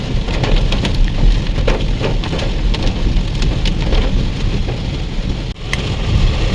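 Heavy rain pours down steadily in a dense, loud roar of drops near Chimmini Dam, continuous throughout with no voices.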